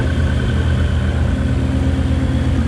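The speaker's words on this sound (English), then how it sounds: "this thing really got some exhaust, straight pipe" A Ford Mustang 5.0 V8 with a straight-pipe exhaust idles loudly nearby with a deep, rumbling exhaust, running steadily without revving.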